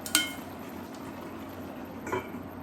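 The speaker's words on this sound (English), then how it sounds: "Now I am opening my lid to check whether the vegetables are boiled." Metal pot lid lifted while cooking Kerala-style avial, two faint, brief clinks about two seconds apart over quiet kitchen background, no talk.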